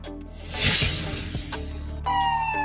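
An ambulance siren wails loudly up close, its tone sweeping high and then sliding back down, with a brief crash-like burst partway through and steady tonal horn notes near the end.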